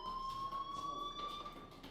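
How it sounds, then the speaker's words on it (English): In the video game Life is Strange, a fire alarm rings faintly at a distance as a steady, piercing electronic tone over a low, hollow indoor background. "do you hear that fire alarm?"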